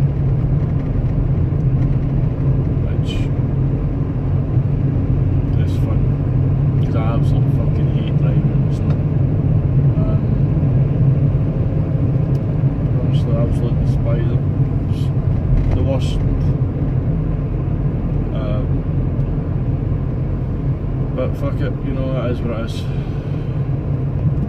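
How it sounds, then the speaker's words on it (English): Van driving slowly through heavy snow on the way into Glasgow, a steady low engine and road rumble that stays loud and constant throughout, with faint ticks and scrapes above it and a person talking over the drive. "now I'm having to drive as slow as I can in this snow"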